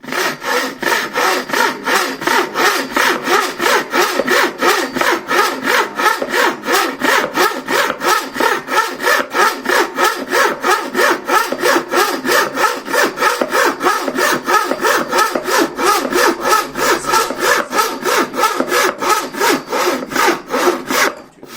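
A Chinese bow saw with unset teeth cuts through wood in steady, rhythmic back-and-forth strokes, loud and close, continuing evenly for about twenty seconds with no talking.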